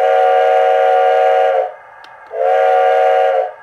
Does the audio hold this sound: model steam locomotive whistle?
yes